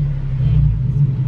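A Nissan 370Z launches on a test drive with a loud, deep engine rumble that swells briefly as the car pulls away.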